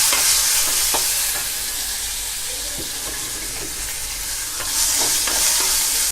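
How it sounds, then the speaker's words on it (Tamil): Onions and curry leaves with asafoetida sautéed in a pan, a loud continuous sizzle and hiss with repeated scraping stirs of a spatula, swelling louder near the end, no speech. "கருவேப்பிலை சிறிதளவு சேர்த்து நல்லா வதக்கிக்கோங்க. சிறிதளவு வெங்காயம் சேர்த்துக்கோங்க."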